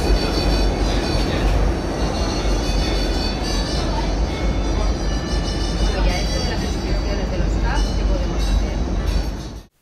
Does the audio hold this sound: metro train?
yes